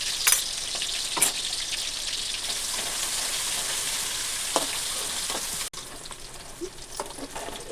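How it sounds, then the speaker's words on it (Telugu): Chicken pieces with ginger paste, onion, green chili and tomato fry steadily in a pan, a continuous loud sizzle with a few sharper crackles and stirring scrapes, no talking. "ఇప్పుడు కొంచెం అల్లం పేస్ట్, చికెన్ అనేది మంచిగా బాగా ఫ్రై చేసుకోవాలి."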